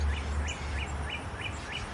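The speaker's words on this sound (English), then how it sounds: "as I stand in our pretty backyard and hear the pretty birds" A bird repeats a short rising chirp about six times in an even rhythm, fairly faint over a low background hum.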